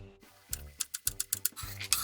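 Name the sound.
knife dicing parsley root into small cubes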